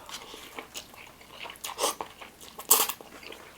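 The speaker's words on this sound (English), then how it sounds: "Still good crunch on the vegetables." Crunchy bites into Chowking noodles with tender beef and al dente noodles with crisp vegetables, several close chewing crunches in an irregular rhythm, the loudest near the end, with no talk.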